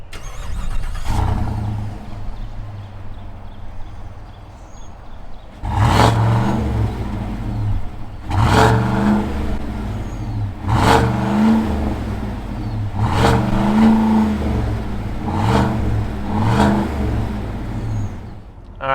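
A supercharged Cadillac Escalade's engine runs close by, with a series of sharp revs, about five or six bursts spaced a few seconds apart, rising and falling over a continuous deep idle.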